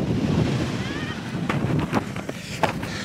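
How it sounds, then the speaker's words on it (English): Wind gusts across a busy beach, buffeting the microphone with a low, continuous rumble. Faint surf and scattered brief clicks sit beneath it. "It is pretty windy."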